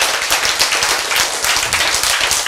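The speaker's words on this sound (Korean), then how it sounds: "박수." Dense applause from a crowd at a lecture or sermon, a steady wash of many hands clapping at once with no pauses, fairly loud and continuous throughout.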